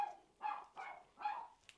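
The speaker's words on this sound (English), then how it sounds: "while I try to ignore the crazy dogs." A dog barks three times in a quick, evenly spaced series of sharp, fairly close barks, with a brief faint yip at the end and no talking.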